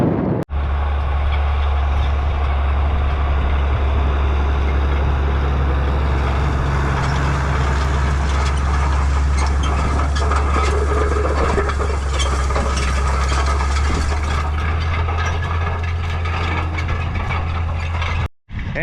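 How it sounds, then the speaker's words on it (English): A White 2105 tractor, an old farm tractor used for spreading manure, runs steadily on a Michigan farm with a deep, loud, constant engine drone for about eighteen seconds, with no talking. "That's a white 2105, our old manure spreading tractor."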